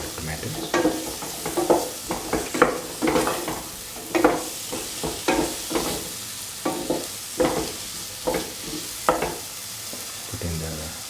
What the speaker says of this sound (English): Keep on sauteing so that the coriander becomes nicely mixed with the tomatoes.